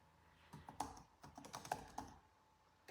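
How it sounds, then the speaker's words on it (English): Quick, light keystrokes on a computer keyboard come in a short irregular burst, close and fairly quiet, with no talk. "and we're going to type in"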